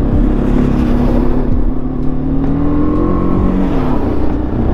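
A motorbike ridden along a winding mountain road, its engine rumbling loud and steady throughout with a gently rising pitch as it climbs through the bends.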